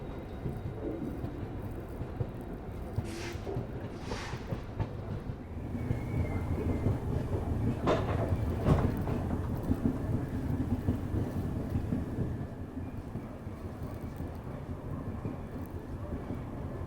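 A locomotive pulling away after leaving its train in a railway yard near Sultanpur Lodhi station, a low continuous rumble and rolling drone with a few brief higher screeches, moderately distant and steady, swelling slightly in the middle.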